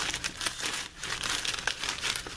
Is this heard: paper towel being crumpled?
yes